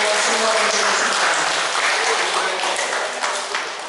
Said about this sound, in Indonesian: Sekali lagi tepuk tangan dulu untuk semua partisipasi.